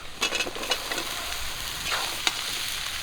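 Fish pieces fry in a hot pan with oil, a steady crackling sizzle broken by a few sharp pops and spatters, close and moderately loud with no talk.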